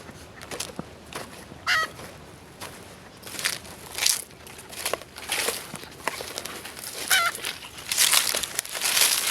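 Chickens clucking and calling outdoors, with a few sharper squawks and bursts scattered through a steady background of birds and rustling.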